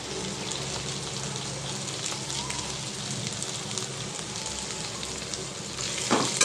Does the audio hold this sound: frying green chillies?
yes